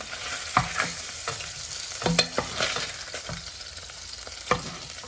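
Carp crackles and sizzles in a hot pan, with scattered spatters and clinks of a utensil turning it. No one speaks.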